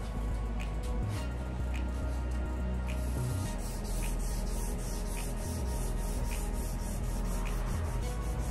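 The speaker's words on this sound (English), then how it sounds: "just do the vertical in this direction" Sandpaper rubs steadily against the painted vertical edge of a 1956 Chevy in a continuous, close scraping rhythm, with repeated back-and-forth strokes throughout.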